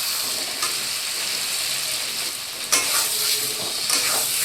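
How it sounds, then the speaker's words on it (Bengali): Fish sizzles steadily in hot oil with a paste of chilli, cumin, garlic and ginger, a close, continuous frying hiss broken by a few sharp utensil clinks and stirring scrapes. "লঙ্কা জিরা রসুন আদা বাটা দিয়ে মাছের ফ্রাই"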